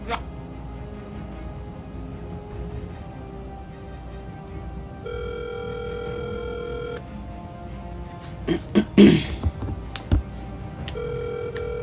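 A telephone call rings out through a handset, giving repeated tone bursts in a steady on-off pattern. There is a brief louder rustle partway through but no talking.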